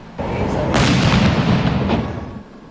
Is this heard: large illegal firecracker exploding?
yes